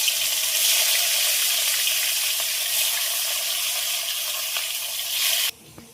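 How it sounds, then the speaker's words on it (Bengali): Steady, loud sizzling of catla fish frying in hot oil, a continuous crackling hiss that cuts off abruptly near the end. "তো তেল গরম হয়ে গেছে, আর মাছগুলো ভাজার জন্য দিয়ে দেবো।"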